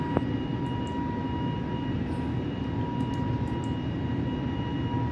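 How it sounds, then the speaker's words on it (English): Steady, even jet roar from an A320neo's engines at takeoff thrust in Microsoft Flight Simulator, with a constant drone and faint tonal whine, no voices. "Cleared for takeoff runway 24 right, Thrust set."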